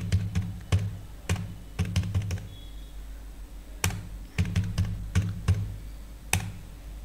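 Numbers typed into an Excel spreadsheet on a computer keyboard, with scattered close key taps in small clusters and short pauses between them.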